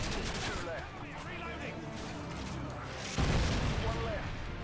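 Gunfire and explosions from the video game Call of Duty: Modern Warfare 2 in a co-op Spec Ops mission, a dense ongoing barrage with a louder heavy boom near the end.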